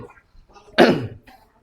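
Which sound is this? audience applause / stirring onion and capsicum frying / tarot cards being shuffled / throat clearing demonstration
throat clearing demonstration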